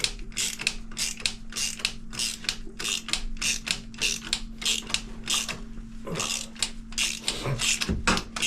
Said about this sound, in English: tightens down the lug nut on the top of the injector head, and it slowly pulls out the injector.